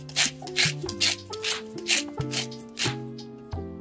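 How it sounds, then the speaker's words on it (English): Pink Himalayan salt ground in a hand salt grinder, about ten quick rhythmic gritty crunching bursts up close over a steady tonal backdrop. "Then I have some pink Himalayan salt. It's in a grinder. So I'm just gonna grind it about 10 times."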